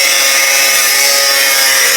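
A grinder runs at a solar panel installation site, a loud, steady high-pitched whirr held constant for the whole short stretch, close by with no speech.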